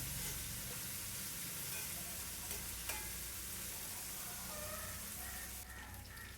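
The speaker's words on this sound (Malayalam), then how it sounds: "ഇനി വെണ്ടയ്ക്ക അരിഞ്ഞത് അതിലേക്ക് ഇട്ട് ഒന്ന് മൂപ്പിച്ചെടുക്കാം" Chopped okra frying in a pan for kichadi gives off a steady, dense sizzle that holds evenly throughout, close and unbroken, with no talking.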